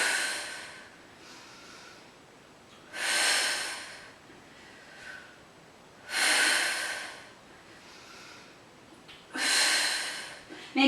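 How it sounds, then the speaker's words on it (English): During a Pilates exercise on all fours, a person lets out several deep, forceful exhales, about three strong breaths spaced a few seconds apart with softer breathing between them, close and clear. "exhale deeply"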